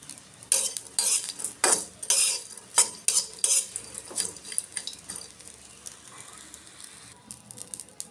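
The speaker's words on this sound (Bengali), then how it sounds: "এখন শুটকিটি টেলে নিব" Dried fish being fried and stirred in a pan in a Bangladeshi home kitchen: close scraping of a utensil against the pan comes in repeated bursts over a soft sizzle, easing toward the end, with no talking.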